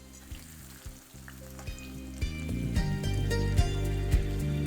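Potatoes frying in hot oil, a steady bubbling sizzle that grows louder and denser over time, with rhythmic clinks and knocks from a utensil in the pan.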